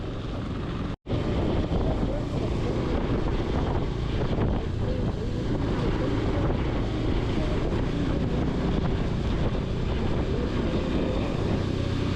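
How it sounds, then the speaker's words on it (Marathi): Motorbike ride on an open road in Maharashtra, heard as a continuous roar of wind buffeting the microphone over the engine, loud and unbroken apart from a brief dropout near the start. "चला बाईक चालवायची मजा तर घेऊया"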